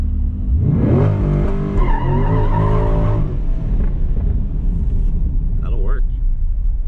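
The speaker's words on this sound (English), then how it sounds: "I'm gonna clean my tires off real quick since I'm, you know, rear-wheel drive" A 900-horsepower rear-wheel-drive NASCAR truck on drag racing slicks does a burnout, engine revving hard over rising and falling pitch with a loud rumbling tire roar, close by, fading to a rough idle.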